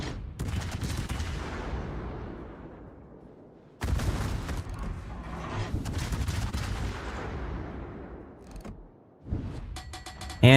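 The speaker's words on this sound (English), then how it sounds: "Napoli opening up now" The Italian cruiser Napoli fires its guns during a World of Warships naval battle. Repeated booming salvos with long decaying rumbles come in distinct bursts, separated by short gaps, loud and close.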